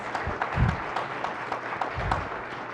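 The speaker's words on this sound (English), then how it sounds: "I would really like to give a round of applause to Todd for this wonderful lecture" Audience applause closing a lecture on equity planning and gentrification in Cleveland, a diffuse steady patter of many hands clapping at moderate level, fairly distant, with no voice over it.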